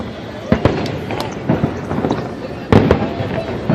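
July 4th fireworks over Washington DC crackle and pop in a steady stream of sharp bursts, with louder booms standing out, heard over a continuous noisy crowd backdrop.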